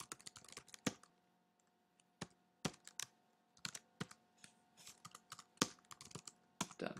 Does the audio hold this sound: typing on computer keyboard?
yes